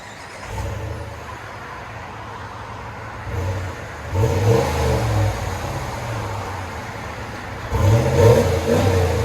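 A 2022 Ram Rebel pickup's stock 5.7-liter Hemi V8 idles with a low rumble, then revs up twice in strong bursts that swell and fade back to idle.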